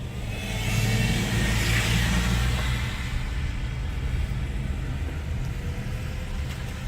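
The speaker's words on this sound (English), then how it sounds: "I get up here and let this black vehicle through here" A black car drives past on a street during a survey of F-2 tornado damage in Portage, a steady, fairly loud engine rumble that swells early on and then holds, with no talking.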